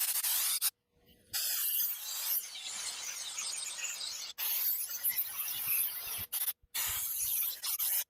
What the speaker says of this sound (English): if I try to turn it, it doesn't want to spray very much